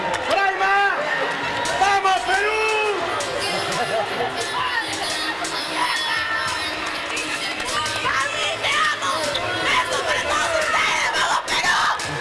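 Loud crowd in a volleyball arena at the 2015 youth world championship, cheering and yelling continuously with chatter and shouts throughout, a dense, sustained roar of many voices.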